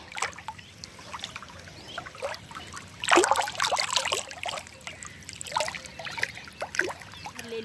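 Irrigation water trickles and gurgles unevenly into a groundnut field, with small splashes and a louder surge partway through, fairly close.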